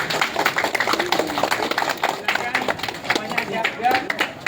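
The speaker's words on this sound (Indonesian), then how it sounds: "Sekali lagi terima kasih tepuk tangan untuk" Students clapping their hands together during a school outing class, a quick run of claps mixed with people talking nearby.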